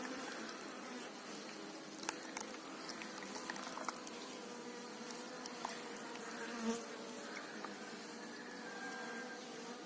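Honey bees swarm around a bee box beside a house, their dense buzzing a steady, soft hum throughout with occasional individual bees passing closer.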